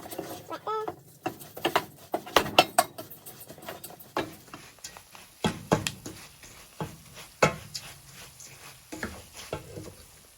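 Busy metallic scraping and clinking of a spatula stirring Nigerian fried rice with prawns and liver in a pan, irregular taps and sizzle throughout, close by, with no one talking.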